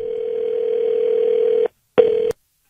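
A telephone dial tone hums steadily as a radio show places a call, cuts out after about a second and a half, then returns briefly before stopping.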